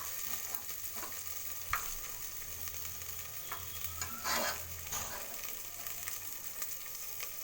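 Chopped vegetables with carrot sizzle steadily in a hot pan while a spoon stirs and scrapes with occasional clacks, close and fairly quiet, no talking.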